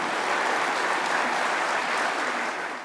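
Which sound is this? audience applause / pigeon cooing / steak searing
audience applause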